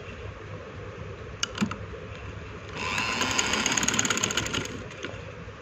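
A sewing machine stitching along the folded edge of a red fabric strip, a quiet hum that rises into a brisk steady needle rattle for a couple of seconds, with a few small clicks before.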